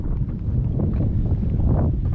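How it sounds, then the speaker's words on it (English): Strong wind on a windy day out fishing, buffeting the microphone as a steady low roar and rumble, loud and close with no talking. "Y'all excuse the wind, it's a pretty windy day."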